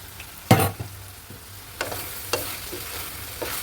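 Small eggplant pieces fry in a pan and get stirred, in a dish cooked with prawns. A low sizzle runs underneath while a loud spatula scrape opens the passage, followed by several lighter scrapes and clinks at uneven intervals.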